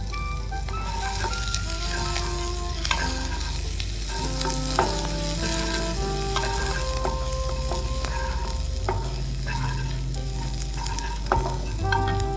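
Chopped onion fries in hot oil in a pan, with a steady close sizzle running throughout and repeated scraping and clinking as a utensil stirs it. There is no talking.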